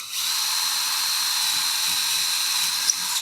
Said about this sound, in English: then drill your hole